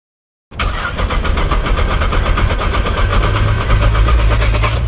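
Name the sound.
2018 Nissan GTR engine cranking, failing to start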